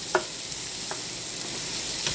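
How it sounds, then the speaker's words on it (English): Scallops sizzling in a hot frying pan with mushrooms, shallots and onion nearby: a steady close hiss of frying with a few brief utensil clinks and stirring sounds, no talking. "We just threw our scallops in."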